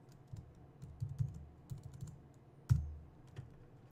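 Keystrokes clatter on a computer keyboard while entering code in C++, a short irregular run of soft taps with one sharper, louder key hit near the end.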